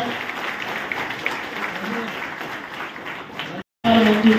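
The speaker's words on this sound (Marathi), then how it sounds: "जोरदार टाळ्या वाजवल्या" Loud, steady applause from an audience at a political thank-you gathering in the Alibag constituency claps on without pause, then cuts out briefly before a voice speaks.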